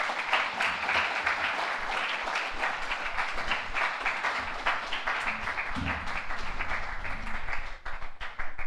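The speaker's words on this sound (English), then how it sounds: "Let's give Mr. Morales another round of applause." Sustained applause from an audience at a school morning assembly, dense clapping filling the room steadily for several seconds with a brief dip near the end.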